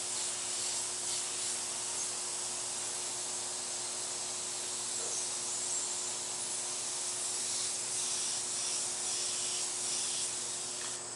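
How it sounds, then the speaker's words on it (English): An airbrush sprays paint in a soft, continuous hiss that holds steady throughout, swelling and easing slightly as the spray moves, heard close with no talking. "Now you'll notice the further I pull my airbrush back away, the wider the fan pattern gets."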